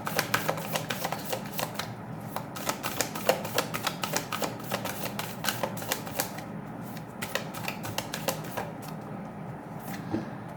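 Tarot cards being shuffled during a card reading, a steady stream of quick, crisp riffling clicks and flutters at close range, moderately quiet, with no talking.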